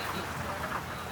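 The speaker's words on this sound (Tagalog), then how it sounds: "Papalipas lang tayo ng ulan, maulan." Steady rain falls outside a house, a soft continuous hiss of drops with no clear breaks or voices.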